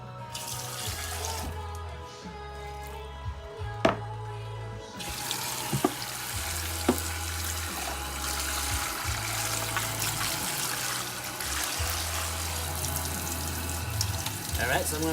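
Warm water runs steadily from a kitchen tap as pickled sweet radishes are soaked and rinsed, a constant close splashing stream with a few light knocks and clinks against the sink.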